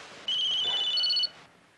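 A telephone rings once in a single sustained electronic trill lasting about a second, close and clear, inside a quiet room with no talking.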